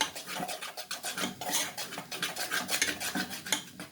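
Oil, butter and flour are stirred together in a pot, producing a continuous close scraping and rasping of a utensil against the metal with quick, uneven strokes.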